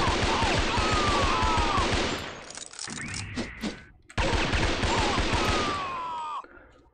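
Dual pistols in SHOGO: Mobile Armor Division fire in rapid, rattling bursts, loud and close, with a brief lull of scraping and clinking before the rapid shooting resumes.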